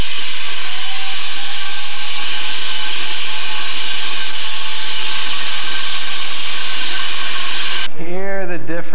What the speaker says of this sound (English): This is my new crash cymbals that Sabian's making for me. Called the Explosion Crash.